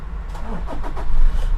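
A 2017 Toyota Revo double-cab 2.8 4WD pickup started with its push-button start, the diesel engine cranking and catching into a loud, close, rising rumble.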